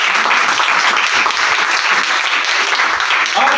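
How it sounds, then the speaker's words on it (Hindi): A church congregation claps loudly together, a dense, continuous wash of many hands filling the room for a few seconds, with a voice faintly audible beneath. "एक मर्तबा सब जोर से ताली बजाएंगे"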